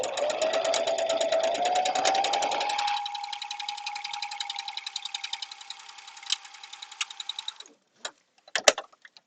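Domestic sewing machine stitching part of a seam on a cosplay garment, a steady rapid mechanical chatter with a rising motor whine that slows and stops, followed by a few separate clicks and clunks.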